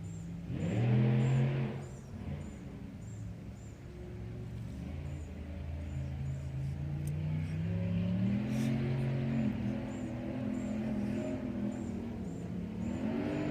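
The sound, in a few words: engine revving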